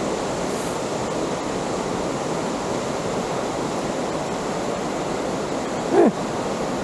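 Koosah Falls in Oregon pours as a steady, full rushing roar of water with no breaks, and a short higher chirp-like sound rises briefly near the end.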